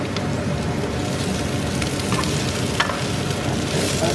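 Swiss chard and garlic fry in a pan with a dense, constant sizzle and crackle, mixed with soft scraping and rustling as the greens are stirred, close and fairly loud throughout.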